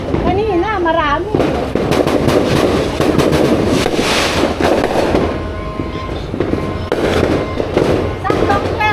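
New Year fireworks burst repeatedly at midnight, loud crackling explosions and whistling rockets overlapping with a distant horn-like tone, under scattered talk and cheering.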